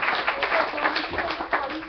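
A crowd of worshippers claps steadily during a Tulsi Vivah ceremony at a Ram Mandir temple, producing a dense, continuous patter of hands that fills the whole stretch with a few louder bursts near the end.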